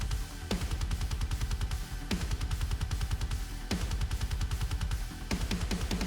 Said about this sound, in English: I kind of got a little metal beat going here with the drums already.